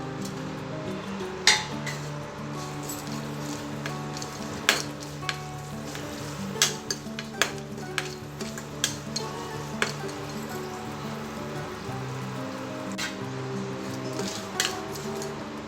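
Mustard seeds, garlic, dry red chillies and curry leaves sizzle and pop in hot oil in a pan on a stove, a steady frying hiss broken by sharp clinks of a spoon against the pan, with no voices.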